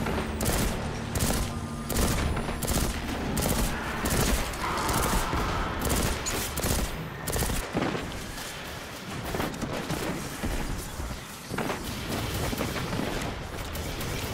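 Dense, continuous gunfire and explosions from the video game Destiny 2 rattle almost nonstop, with rapid overlapping shots throughout.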